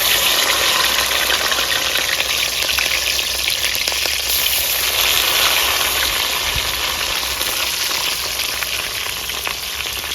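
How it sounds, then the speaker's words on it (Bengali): Cabbage fries in hot oil in a home kitchen, a loud, steady sizzle and crackle that carries on unbroken for ten seconds with no talking. "তেলটা আমার গরম হয়ে গেছে। এবার বাঁধাকপি ভেজে নেবো।"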